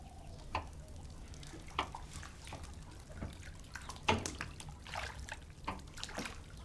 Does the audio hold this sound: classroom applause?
no